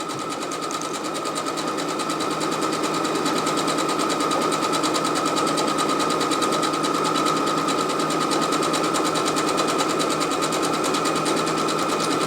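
A sewing machine fitted with a circular attachment and stabilizer runs decorative stitches in a steady, continuous high whirring hum with a rapid even needle rhythm, close and loud throughout.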